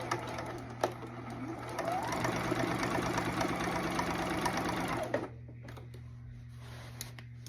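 A sewing machine stitches a denim jacket sleeve in at a 5/8 inch seam allowance: a steady, rapid mechanical chatter runs for a few seconds, then stops, leaving a low hum and a few faint clicks.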